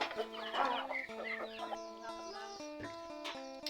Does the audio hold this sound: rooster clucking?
yes